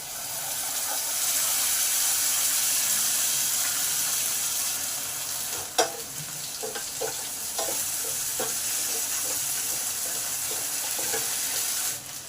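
Ground spice paste with turmeric and black cumin sizzles in hot oil in a pan for a fish curry made with mango, a steady bright hiss with occasional spatter pops and stirring scrapes, and no voices.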